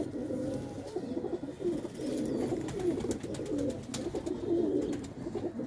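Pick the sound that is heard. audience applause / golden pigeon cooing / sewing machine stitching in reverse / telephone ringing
golden pigeon cooing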